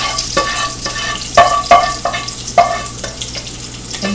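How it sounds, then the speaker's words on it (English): Eggs frying in a hot pan, a loud close sizzle running throughout with periodic scraping and stirring strokes, and no talk. "we're now going to cook our eggs"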